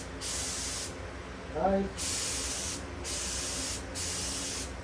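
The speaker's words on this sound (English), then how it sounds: "I'll go ahead and get our test spray over here." A paint spray gun hisses in several steady bursts during a test spray for a single-stage garage car paint job, each burst lasting about a second, with a brief spoken word between them.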